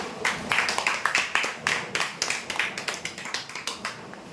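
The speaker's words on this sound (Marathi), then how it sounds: "जोरदार टाळ्या होत्यांसाठी" A crowd at a prize draw claps for a winner with crisp, fairly even rhythmic claps, close and sustained, tapering slightly toward the end.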